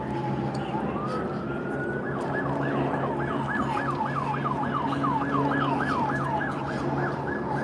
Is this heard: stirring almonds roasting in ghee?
no